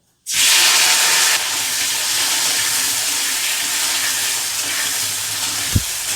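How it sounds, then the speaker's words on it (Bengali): Chopped tomatoes tipped into hot oil with a bay leaf for a vegetarian kofta curry, bursting into a loud, close, continuous sizzle that settles into a steady hiss, with one soft knock near the end. "এইখানে 2টো মতো টমেটো কুচি করে নিয়েছি, এটা তেলের মধ্যে দিয়ে দেবো"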